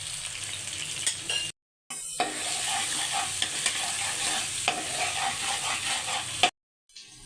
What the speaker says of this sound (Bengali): ভালো করে মশলাটাকে কষিয়ে নিলাম।